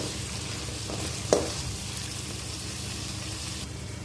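Peas, carrot, capsicum and ginger garlic paste fry in a pan with a soft, even sizzle, broken once by a brief clank of a utensil against the pan.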